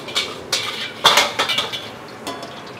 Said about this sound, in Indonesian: Gue bakal ngerjain nasi goreng Singapura level 3, teman-teman ya.